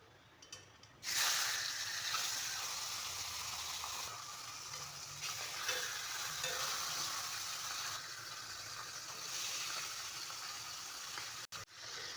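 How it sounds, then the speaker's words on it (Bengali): Hilsa fish pieces fry in mustard oil, a broad steady hiss that bursts in at once and holds for many seconds, close and moderately loud with gentle swells and no voices. "প্রথমে আমি মাছগুলোকে ভেজে নিচ্ছি।"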